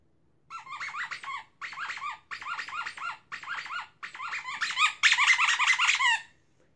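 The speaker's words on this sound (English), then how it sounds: "That's my dog, guys." A dog at play gives a run of high, squeaky yips and whimpers in short bursts, growing louder and more excited toward the end, with no one speaking.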